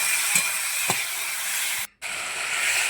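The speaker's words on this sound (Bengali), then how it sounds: "টমেটোগুলো ভালো করে এবার কষিয়ে নেব" Tomatoes seasoned with turmeric and salt sautéing in a pan, giving a steady close hiss and sizzle with a couple of soft stirring knocks and a brief drop-out near the middle.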